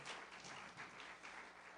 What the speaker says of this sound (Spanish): Un aplauso a mi esposita preciosa.